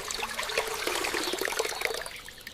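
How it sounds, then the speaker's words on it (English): Fresh water flows and trickles steadily in a miniature village setting, a bright, continuous splashing stream that is close and fairly loud, with no talking. "Here, the water is flowing nicely."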